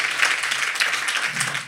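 A studio audience on a French-language talk show claps steadily, a dense wash of applause with no pauses across the short stretch.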